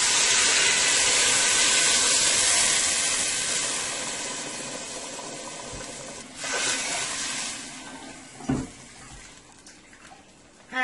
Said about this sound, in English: I am going to go ahead and add 2 cups of hot water.